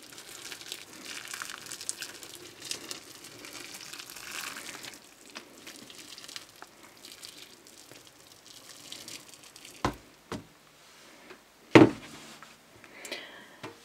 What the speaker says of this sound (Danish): tager du noget varmt vand, gerne kogende, og hælder ned over